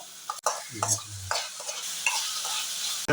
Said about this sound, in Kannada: 1 ಟೊಮೆಟೊವನ್ನು ಸಣ್ಣಗೆ ಕಟ್ ಮಾಡಿ ತಗೊಂಡಿದ್ದೇನೆ. ಇದನ್ನು ಚೆನ್ನಾಗಿ ಫ್ರೈ ಮಾಡಿ ತಗೊಳ್ಳುವ.